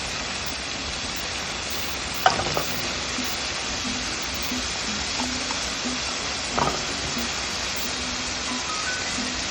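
Green beans and boiled peanuts stir-fry in a pan for a poriyal, a soft even sizzle throughout. Two distinct spatula scrapes or knocks land a few seconds apart.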